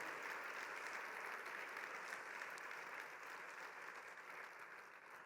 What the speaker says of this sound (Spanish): Vamos a darle un aplauso al Señor por su amor.